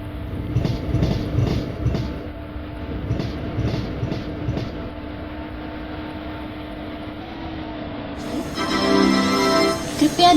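A train pulls into platform 1 at a station in the Railworks simulator, with rhythmic clickety-clack of wheels over rail joints, a steady low hum, and a louder hiss and whine rising near the end.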